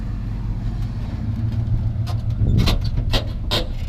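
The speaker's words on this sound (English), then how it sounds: "Squeaky truck." A clean truck idles with a low engine rumble, and a few sharp squeaks cut in near the end.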